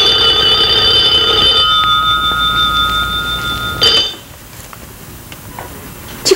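An old-style telephone bell rings loudly and close in a sustained burst, stops for a moment, rings again briefly, then goes silent as the room quiets.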